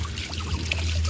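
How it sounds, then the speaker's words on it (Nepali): Water falls at a waterfall in a fun park, a steady rushing wash heard at moderate distance under a low hum. "पानी झर्दैछ झर्नामा"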